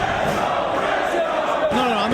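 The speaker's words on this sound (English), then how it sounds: "Let's listen to that crowd again." An arena crowd at a live wrestling event roars steadily and loudly, a dense wash of cheering and shouting with no pauses, and a voice rises out of it near the end.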